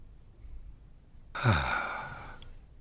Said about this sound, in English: Simply we exhale.